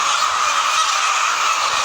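Dense, steady clucking and squawking of hens fills a large 10,000-bird layer poultry shed, a loud continuous chorus with no pauses and no voices.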